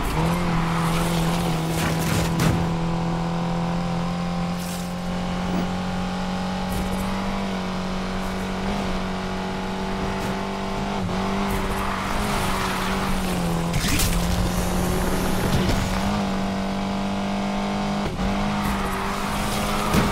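Cars race in the video game Need for Speed Unbound, with a steady, droning engine note running throughout, plus occasional tire noise and whooshes from passing cars, all at a moderate level with no speech.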